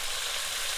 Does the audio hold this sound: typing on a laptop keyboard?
no